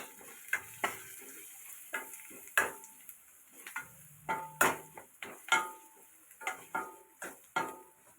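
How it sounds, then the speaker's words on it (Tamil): A spoon stirs chili powder being sautéed in a pan, giving a run of distinct scraping knocks and clinks at an uneven pace, close and fairly clear, with little sizzle beneath them. "மிளகாத்தூள் போட்டுக்கோங்க நல்லா போட்டு வதக்கி"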